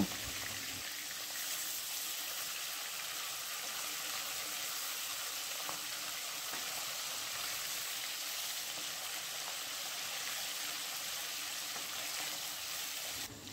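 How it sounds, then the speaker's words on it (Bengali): Rohu fish pieces frying in oil, a steady, fairly quiet sizzle that holds evenly throughout with no voices over it. "মাছগুলি একদিকে ভালো করে ভাজা হয়ে গেলে উল্টিয়ে অপর দিকেও ভালো করে ভেজে নেব"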